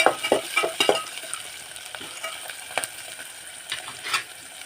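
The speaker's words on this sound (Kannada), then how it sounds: "ಸೊ ಈಗ ಫ್ರೈ ಆಗಿ ಸ್ವಲ್ಪ." Field beans (avarekai) tossed in a hot pan for upputtu, giving soft sizzling with clinks and scrapes of stirring, close and moderately loud, no talk.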